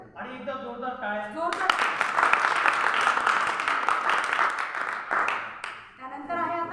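Audience at a debate competition prize ceremony breaks into loud, sustained applause that swells and fades, with a voice speaking over it at the start and again as it dies away.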